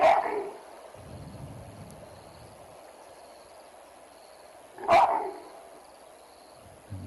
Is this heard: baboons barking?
yes